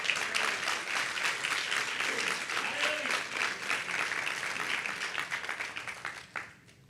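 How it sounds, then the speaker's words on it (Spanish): Church congregation applauding, a dense sustained round of clapping from many people at moderate distance that fades out at the end. "Yo creo que deberíamos darle un aplauso a eso al Señor."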